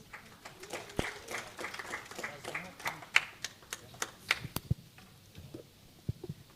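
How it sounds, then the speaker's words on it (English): At a Data Tamasha conference, an audience claps for a returning presenter: scattered, uneven hand claps that thin out into sparse individual slaps, with some talk underneath. "Let's give her another hand of applause."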